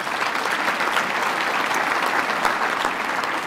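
A large audience at a Toronto mayoral debate gives its supporting sponsors a loud, continuous round of applause, a dense wash of clapping throughout.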